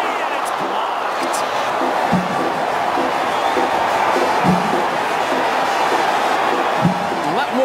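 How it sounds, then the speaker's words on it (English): Crowd at Drive Pink Stadium during an Inter Miami versus Charlotte football match, a constant roaring wash of noise with occasional thumps and shouts, commentary talking over it. "That woke up the crowd here at Drive Pink Stadium."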